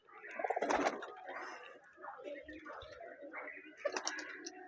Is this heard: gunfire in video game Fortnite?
no